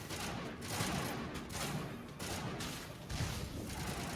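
Gunfire in Mass Effect Legendary Edition: a dense, continuous fusillade of shots and impacts under a loud combat din, with no clear gaps between bursts.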